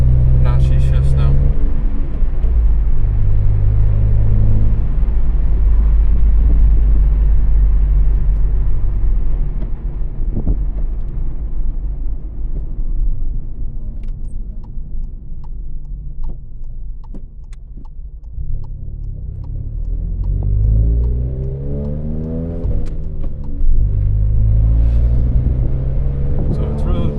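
Car being driven after a Holy Shift short-throw shifter kit install, with steady low engine and road rumble throughout, rising and falling with gear changes, loud and close inside the cabin.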